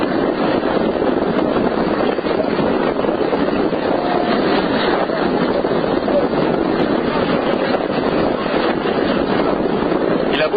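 A train rolling along the CFCO railway line in Congo, a steady, loud broadband rumble of wheels and rushing air that fills the scene without pause.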